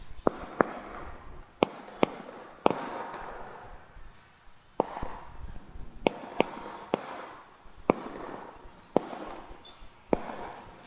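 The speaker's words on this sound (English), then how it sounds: "It's hard to concentrate with all these firecrackers going off." Firecrackers bursting outside at irregular intervals during a class in Puri, sharp loud cracks and pops, some near and some farther off, over a rumbling background with no talk.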